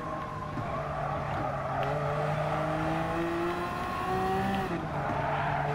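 A Gr.1 race car engine is held on the throttle through an uphill stretch of the Autopolis circuit in Gran Turismo Sport. It drones steadily and loudly throughout, rising in pitch, with a shift-like drop in tone near the end and no talking.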